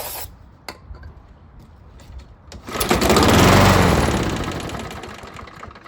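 A lawn mower engine being pull-started without catching, a few faint clicks and rattles, then one loud rising and falling whir of the recoil cranking the engine nearby before it dies away.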